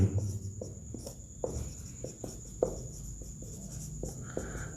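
Marker or chalk strokes on a classroom board as an algebra equation is written, a series of short, distinct taps and scrapes at an uneven pace, fairly close with a steady faint hum behind them.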